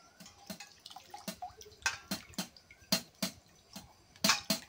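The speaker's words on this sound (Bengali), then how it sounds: "আমরা এই ড্রাগন ফ্রুটটাকে একটু ভালো করে ধুয়ে নেব" A dragon fruit is washed under a running kitchen tap, giving a close series of splashy, irregular water spatters and drips with quick handling knocks between them.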